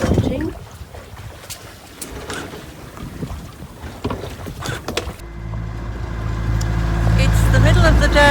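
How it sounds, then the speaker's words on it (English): A cruising boat motors along under engine power in calm, windless conditions on a reef passage, a steady low drone with wind buffeting the microphone, growing louder and more constant toward the end. "the wind has completely dropped out, so we're motoring again, which is very unfortunate, also very noisy"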